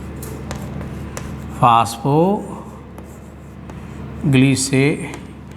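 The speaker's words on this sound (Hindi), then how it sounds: "मैं एक बार पूरा नाम लिख देता हूँ इसका" A marker squeaks across a classroom board in two short bursts of strokes, writing out a long botany term, with a quiet room hum between them.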